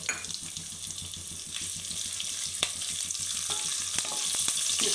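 Green chilies and whole spices frying in hot oil, a steady close sizzle with scattered pops and crackles, plus occasional stirring clicks against the pan; no talking.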